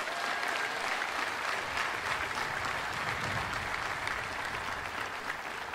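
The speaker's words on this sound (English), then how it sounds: "So please give them a round of applause." An audience at a College of Science undergraduate diploma ceremony gives a loud, dense round of applause that holds steady and unbroken, with no talking over it.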